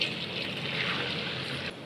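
Water is poured over puffed rice to soak it, a continuous close gushing splash lasting under two seconds with no talking.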